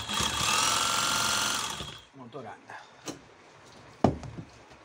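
A workshop motor runs with a steady, loud whirring hum for about two seconds, then cuts off, leaving scattered clunks, rattles and one sharp knock up close.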